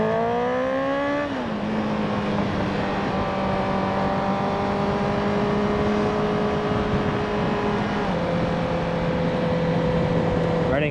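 Motorcycle ridden in third gear on Japanese roads, its engine giving a steady close drone with rising and falling pitch as it eases off and settles, accompanied by wind rumble.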